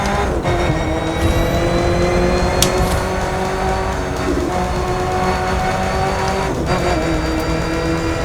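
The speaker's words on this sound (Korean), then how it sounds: "머슬카 네, 예, 포드 GT 이 차량의 끝내주는 배기음을 느끼실 수가 있으시죠?" A Ford GT muscle car in a racing game, its exhaust loud and continuous as the engine revs and holds high, with a steady roar and faint tire squeal throughout.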